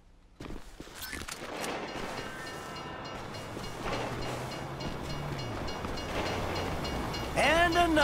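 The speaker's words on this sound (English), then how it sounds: "you'd know the train comes by right now" Train in the video game GTA V rumbling past, a continuous rolling clatter that builds and stays loud for several seconds, with a shifting low drone and a sharp screech at the end.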